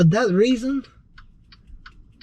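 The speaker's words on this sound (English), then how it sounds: "And that ticking noise straight out of a Jeep." Interior ticking of a 2021 Maserati Levante V6 Turbo, a faint regular tick repeating about every third of a second after a short burst of speech.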